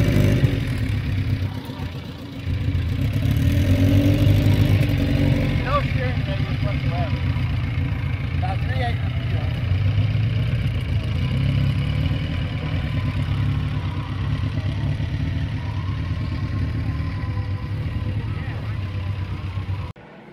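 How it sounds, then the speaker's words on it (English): A Lotus car engine idles steadily with a low, throbbing rumble, close by, with voices talking faintly in the background throughout. "Just listen to the engine on this."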